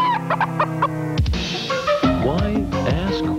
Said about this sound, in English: Chickens have no lips.